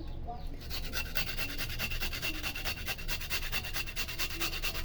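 A potato being grated on a bladed kitchen grater for a face mask, giving a steady rhythmic rasping scrape with repeated strokes, close and fairly loud throughout, with no talk over it.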